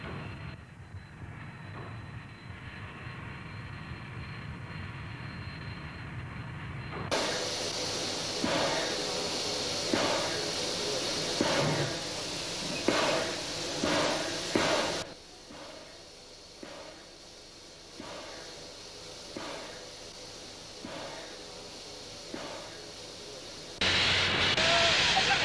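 AB 798 steam locomotive idling at Lyttelton Wharf, its steam heating for the inter-island ferry train giving a steady broad hiss with rumbling undertone, shifting in level across the clip, with a sharp louder burst of steam near the end.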